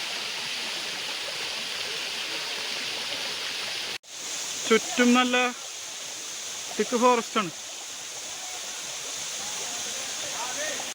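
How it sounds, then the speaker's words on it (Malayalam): Akamala waterfall in rainy season, water rushing down through thick forest as a constant loud hiss; someone speaks briefly twice over the roar. "അവിടെ കുത്തി ഒലിച്ച് വരുന്നുണ്ടോ വെള്ളം, എന്താ സ്റ്റൈല്. മഴക്കാലത്തൊരു സുന്ദരി തന്നെയാണ് അകമല വാട്ടർഫോൾ"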